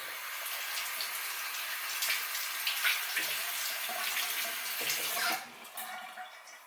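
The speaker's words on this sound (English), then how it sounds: "I'm gonna try rinsing it with a little bit of soap." Tap water running steadily into a sink while an item is rinsed with a little soap, a continuous moderate splashing rush that quiets and changes near the end.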